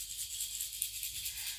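Handheld baby shaker rattled while moved side to side around an infant's head, a soft continuous high hiss-like rattle with gentle pulses, faint and brief.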